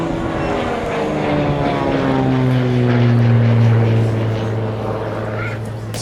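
A Beechcraft Bonanza propeller plane flies aerobatic loops over a seaplane gathering at Biscarrosse, its engine drone loud and sweeping down in pitch as it passes, steady and near.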